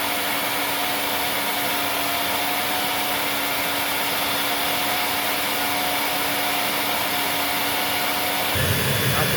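A Vax 221 vacuum cleaner runs steadily at close range, a loud constant whine with a faint tonal hum, and a low thump shifts the sound near the end.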